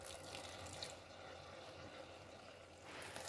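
Water is poured in a small, steady stream into a pot of partly cooked coconut rice that is still a little hard, a soft continuous wash lasting a few seconds and swelling slightly at the end, with no talking.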